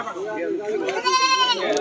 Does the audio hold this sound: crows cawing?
no